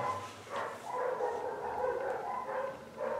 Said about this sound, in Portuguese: agora todos os cães da rua estão latindo.